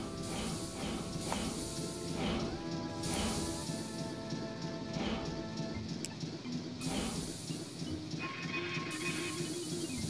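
A train at a station in the game Banjo-Tooie, clanking mechanisms and hissing steam over a rumbling chug, with rhythmic metallic hits and tonal whistles repeating throughout.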